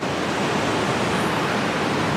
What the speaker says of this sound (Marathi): हा धबधबा अगदी जवळून म्हणजे जवळपास 15 फुटाहून पाहता येतो